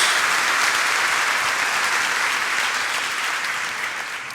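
A church congregation claps loudly and steadily, a thick, sustained applause from a large crowd that gradually tapers off toward the end.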